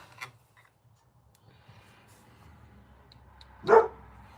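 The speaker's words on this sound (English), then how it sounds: "Stupid dog." A dog indoors gives a single loud bark near the end, preceded by a faint yip and quiet room ambience with a few soft ticks.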